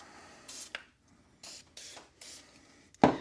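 Strike Hold lubricant is sprayed onto tools in four short, close hissing bursts separated by pauses, followed by a sharp clack at the end.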